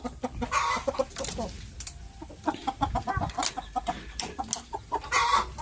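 Chickens cluck close by on a small backyard poultry farm in the Philippines in quick, uneven bursts of clucks and squawks, several birds calling over one another.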